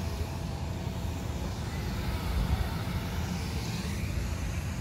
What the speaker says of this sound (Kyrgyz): Чоң самолет мына.